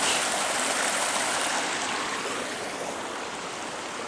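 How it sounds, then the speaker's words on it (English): Steady broadband rush of a stream at the headwaters of Hampton Creek on a farm in winter, continuous and fairly close, easing slightly toward the end, with no voices. "This is the headwaters, you could say, of Hampton Creek."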